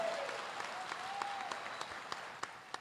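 Steady applause from a crowd, a dense wash of clapping with a few louder individual claps standing out near the end.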